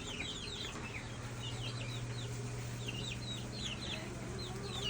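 Chickens in a farm coop clucking and chirping in quick, overlapping calls at close range, with a low steady hum underneath throughout.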